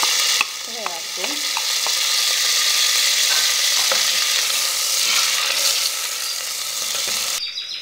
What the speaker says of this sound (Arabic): نقليو مليح هذاك الدجاج تاعنا مع البصل